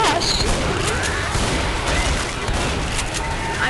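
Dense, sustained gunfire in a Left 4 Dead custom map as players shoot at a Tank, a loud continuous clatter of shots and booms with no clear breaks, filling the whole moment.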